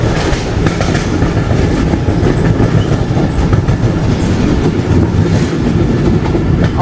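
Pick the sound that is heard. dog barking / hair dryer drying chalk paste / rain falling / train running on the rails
train running on the rails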